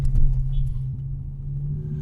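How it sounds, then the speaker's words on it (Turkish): A BMW M6 with a naturally aspirated V10 gives a deep, steady engine and exhaust rumble from inside the car, with a sustained low drone and faint scattered clicks and no talking. "Kanka zaten bu motorun sesi çok güzel."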